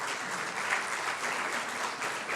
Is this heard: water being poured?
no